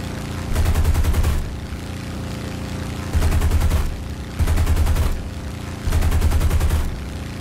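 P-47 Thunderbolt machine guns in War Thunder fire in four loud, sustained bursts, each lasting about a second, separated by steady aircraft engine drone.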